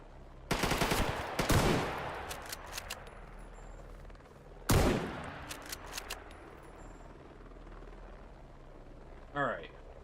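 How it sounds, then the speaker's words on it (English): Video game gunfire in S.T.A.L.K.E.R. GAMMA: two loud bursts of rapid shots, one near the start and another around the middle, followed by scattered quieter shots and a brief voice near the end. "Don't shoot all your ammo."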